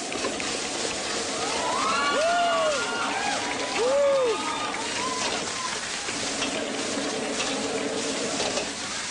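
Eggplant and banana blossom hitting hot oil, a steady loud sizzle and crackle like heavy rain, with voices and exclamations rising over the frying.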